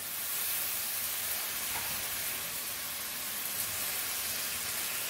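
Pasta cooking water poured into a hot pan for a prosciutto and mushroom farfalle sauce gives a steady, broad hiss of steam and sizzle that holds evenly throughout, close and fairly loud, with no talking.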